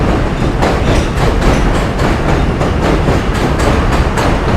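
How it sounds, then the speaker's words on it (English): A New York City M subway train rushes past close by, loud and steady, with a rhythmic clickety-clack of wheels over rail joints running throughout. "M-Train."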